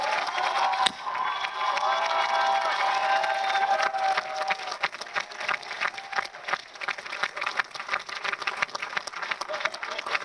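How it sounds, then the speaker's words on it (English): An awards ceremony audience applauds, dense clapping mixed with cheering that starts full and loud, then thins into scattered, uneven claps toward the end. "Let's give a big round of applause to Ms. Keisha Bogan."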